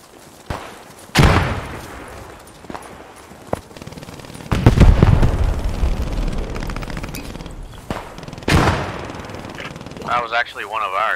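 A mobile spawn point blows up during a Post Scriptum match, a loud explosion among bursts of gunfire and heavy booms, with people talking over the din.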